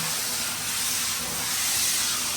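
A steady, loud aerosol hiss of degreaser sprayed under a Nissan R33 Skyline continues from start to finish, close by, with no talking.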